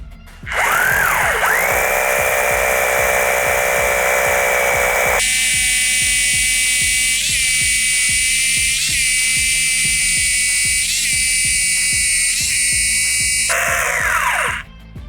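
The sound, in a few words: Procraft cordless rotary hammer drilling holes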